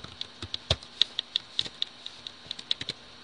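A computer keyboard is typed on in a quick, irregular run of crisp close key taps, about a dozen strokes over a few seconds in an otherwise quiet room.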